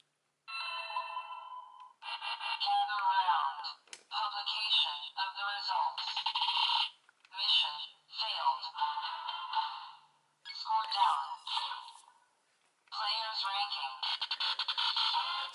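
Tinny electronic mission-clear jingles and beeps from a DX Spider Phone toy play in several bursts separated by brief pauses, bright and thin in tone.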